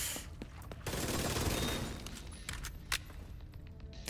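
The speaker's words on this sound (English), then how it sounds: "I'll just kill him by shooting him in the leg, so we don't have to go through any fire." Rapid video game gunfire rattles out in dense bursts while an enemy is shot, followed by a few sharp isolated shots and thuds.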